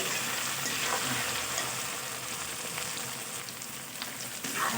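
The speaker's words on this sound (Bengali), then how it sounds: "আলুর সঙ্গে পেঁয়াজ লঙ্কা রসুন আরও ভালো করে ভাজা ভাজা করে নেব" Potato, onion, chilli and garlic fry hard in a pan, a dense, close sizzle that holds steady throughout, with stirring scrapes mixed in and no voices.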